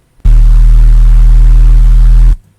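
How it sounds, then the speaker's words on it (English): Synth bass layered with white noise for grit, a loud sustained tone holding for about two seconds with a hiss spread across it, then cutting off sharply. "white noise alongside with your bass"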